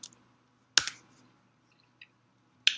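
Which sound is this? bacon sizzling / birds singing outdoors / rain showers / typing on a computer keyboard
typing on a computer keyboard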